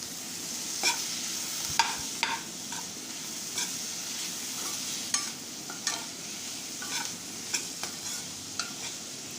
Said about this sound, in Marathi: कॉर्न टाकल्यानंतर छान असं मिक्स करून घ्यायचं